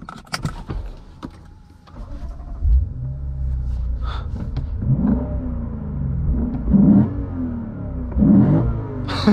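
A 2024 Lexus IS500 F Sport Performance engine starts up and rumbles, then revs and accelerates in several rising surges, heard from inside the car.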